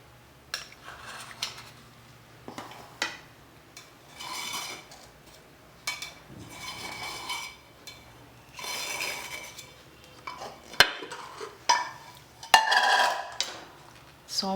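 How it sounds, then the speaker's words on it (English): A knife runs around the sides of a steel mould of cooled vattayappam to loosen it, giving a series of close metallic scrapes, clinks and taps in irregular bursts, with no speech. "First run through the knife, the sides"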